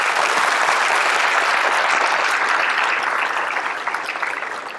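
Audience at a sheriff's office swearing-in ceremony applauds the command team, a steady dense wash of clapping that holds loud and gradually thins toward the end.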